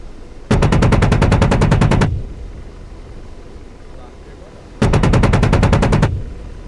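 Two long, loud bursts of rapid cannon fire from the AH-64D Apache's M230 gun in the DCS flight simulator, each roughly one and a half seconds of fast, evenly spaced shots, separated by a quieter gap.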